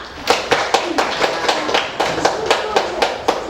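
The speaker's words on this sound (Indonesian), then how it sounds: "Tepuk tangan semuanya." A sixth-grade Islamic studies class claps together at school, about a dozen sharp, evenly spaced claps in a quick steady rhythm, close and fairly loud, with no talking over them.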